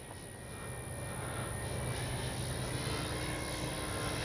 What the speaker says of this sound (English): Love flying this plane.